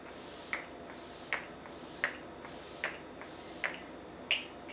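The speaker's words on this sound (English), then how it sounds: "I just love spraying my face with kind of almost like a primer spray before I powder it" Six short, sharp hissing puffs of a primer spray bottle misted onto a face, evenly spaced about a second apart, close and fairly quiet with no talking.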